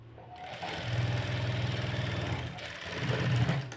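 Sewing machine running steadily while stitching the lining of a U-shaped princess-cut blouse, a continuous close mechanical whir lasting several seconds with a slight surge near the end.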